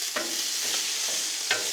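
Bratwursts, peppers and onions sizzle steadily on a Blackstone griddle, a constant close hiss with a few brief scraping stirs of a spatula across the flat top.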